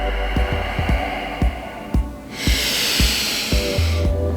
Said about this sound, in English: Ujjayi breath of fire